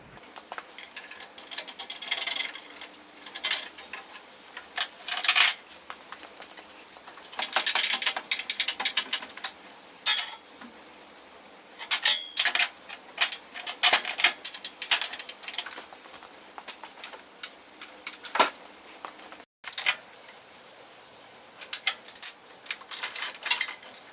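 Ratchet wrench clicks and metal parts clank as the old single-carb dual-port intake comes off a VW Thing engine, with bursts of rapid ratcheting and occasional knocks of loose hardware, close and fairly quiet, with no talking.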